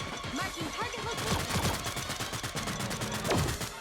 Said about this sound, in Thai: มันกำลังยิงกันอยู่อ่ะ